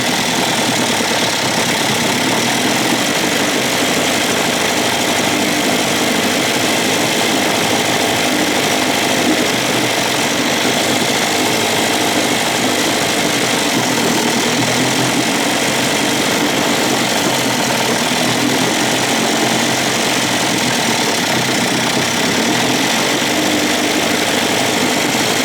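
A 1956 Evinrude 7.5 hp outboard motor running continuously at high RPM, a loud, dense, buzzing engine roar with a rattling texture, steady and close for the whole stretch with no voices.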